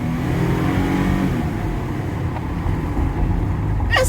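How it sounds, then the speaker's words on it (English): A 2019 Nissan NV 2500 High Roof van pulling away with the throttle floored, its engine droning loud and steady, with a rising roar and exhaust noise close by and no talk. "let's go ahead and put our foot into it. Off the line a little bit, and let's go."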